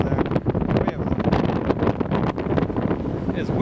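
Strong gusts of wind buffet the microphone outdoors in Jaipur, a loud, continuous rough roar that fluctuates throughout with no clear speech over it.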